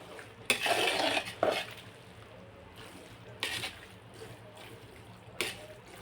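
Hot water poured into soaked sabudana and mixed by hand in a bowl, a few brief splashy bursts of pouring and stirring separated by quieter stretches of soft sloshing.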